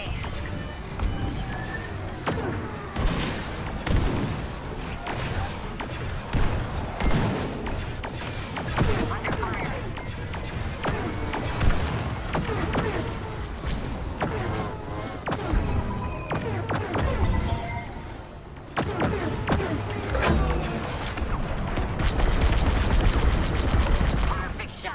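Starfighter weapons in the Star Wars Squadrons space combat game fire in dense, continuous rapid volleys of blasts and explosions, loud and layered throughout with game effects and a voice speaking at times.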